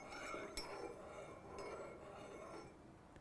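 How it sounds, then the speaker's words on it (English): A spoon stirs honey into tea in a glass, giving a few light clinks against the glass, sharpest near the start and middle, over steady room noise. "You can just stir it in."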